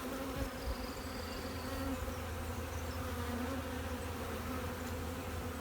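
Honey bees hum and buzz in a dense, steady drone around beehives, close and continuous throughout.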